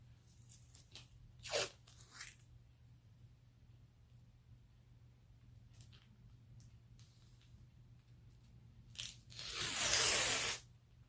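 Medical tape is pulled from the roll and torn off during a crafting job: several short ripping strips come early, then one longer, louder tearing pull near the end, close and isolated over a faint steady hum.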